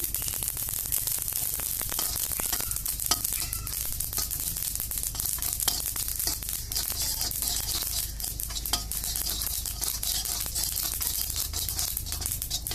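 Black sesame seeds dry-roasting in a pan, a steady dry rustling crackle with frequent scraping stirs throughout, close and continuous, no voices.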